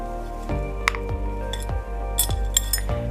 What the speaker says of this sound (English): So I'm going to put my seeds over in this strainer.